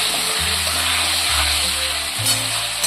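Onion, ginger, garlic and green chilli paste sizzles loudly in a pan while being stirred, a dense continuous frying hiss with low scraping strokes of the spoon, close up and without talk.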